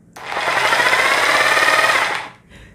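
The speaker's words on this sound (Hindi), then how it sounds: "अब मैं इसको लेके आता हूं डिमोलिशन मोड पर, अब ये थोड़ी भारी चल रही है और इसका साउंड भी थोड़ा हैवी हो गया है।" A rotary hammer drill with an SDS chuck runs in demolition mode, a loud, close, continuous buzzing hammer rattle for about two seconds before it stops abruptly.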